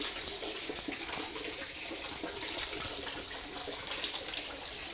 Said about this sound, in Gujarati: એક અહીંથી ઉપરથી પાણી પડે છે